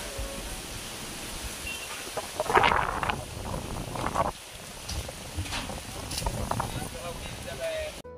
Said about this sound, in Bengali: হাওয়া দিচ্ছে দেখো কেমন